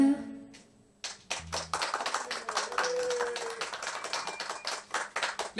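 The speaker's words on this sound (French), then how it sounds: "vous pouvez encore l'applaudir" An audience applauds a performer at a live show, a dense burst of many clapping hands that starts abruptly and holds steady and loud, with no voices over it.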